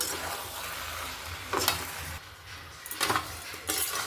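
Meat coated in salt and turmeric, stirred in spiced oil in a pan for a Bengali-style curry: a steady close sizzle with several scraping stirs and faint utensil clinks against the pan, no talking.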